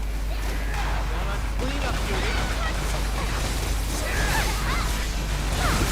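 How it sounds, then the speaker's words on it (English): Explosions and gunfire-like bursts from the video game Freedom Wars Remastered rumble over a dense, steady game soundscape with a low constant hum. "Explosion detected in enemy abductor."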